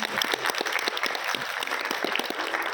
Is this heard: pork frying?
no